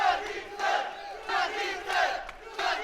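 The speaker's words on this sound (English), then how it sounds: "the crowd here at Charter Hall absolutely deafening in support of their man" A crowd at Charter Hall roars in loud, surging waves of cheering and shouting during an amateur MMA title fight, rising and falling roughly every half second with no talk over it.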